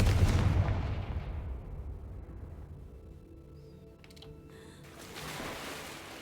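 The Confringo blasting spell in a Harry Potter video game lands as a loud, deep booming explosion that rolls away into a long fading rumble, with faint crackles trailing behind.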